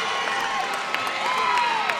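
A crowd at a boxing match cheers and shouts, a diffuse roar with rising whoops and whistles, moderately distant and sustained across the moment.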